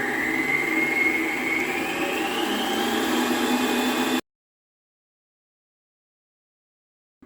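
A stand mixer beating cake frosting gives a steady, loud motor whir with a slowly rising whine, running alone for about four seconds before cutting off abruptly.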